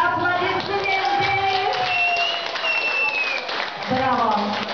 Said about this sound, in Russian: Аплодисменты!